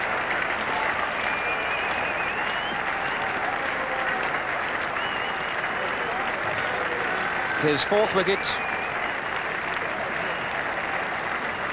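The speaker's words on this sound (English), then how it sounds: "there'll be lots of applause for Graham Gooch" Steady cricket-ground applause from a large Test match crowd at an England v India game, sustained and even over nearly twelve seconds, with a commentator talking over it and a brief louder burst of voices near the end.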